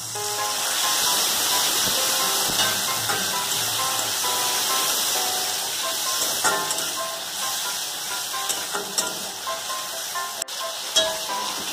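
Water poured into a pan of egg curry sets off a loud, steady hiss of sizzling and steam that slowly eases and breaks into crackles.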